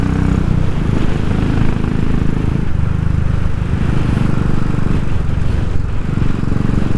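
Motorcycle engine fitted with a 45 mm pod filter and 12 mm crankcase breather, running loud and close, revving continuously with a dense roar and small rises in pitch, no voices over it.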